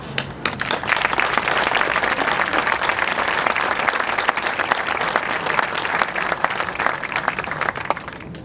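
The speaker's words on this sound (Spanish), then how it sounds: "aprovecho ya para pedir un aplauso, pero es para vosotras y vosotros" Sustained applause from a gathered crowd at a memorial tribute to victims of Francoism in Madrid's Cementerio del Este, steady dense clapping filling the whole stretch without letup.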